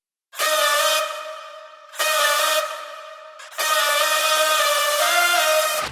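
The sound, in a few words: supersaw synth lead layered with pitched-up vocal chops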